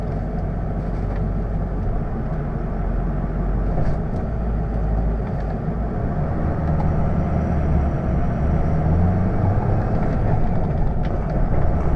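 A 2005 Ford F-350 turbo diesel pickup with a five-speed manual, driving over a bumpy road, with a steady low engine drone and road rumble heard from inside the cab.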